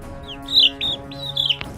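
Chicks loose from a brooder give a few bright, high peeping calls in quick succession, close and clear over a faint background hum, with a small knock near the end.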